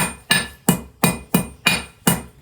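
A blacksmith's hammer strikes hot iron while a nail is forged, six sharp ringing blows at a steady, even pace, close and loud, each with a short metallic ring.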